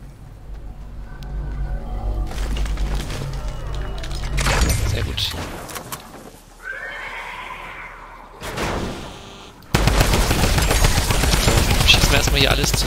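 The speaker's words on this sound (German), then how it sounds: "Schießen wir erstmal hier alles zusammen, dass es hier nicht gleich Probleme gibt." Rapid bursts of gunfire in the video game Fortnite during a monster horde attack, loud and dense, with shots and booms coming in clusters and then a sustained barrage near the end, with someone talking at times.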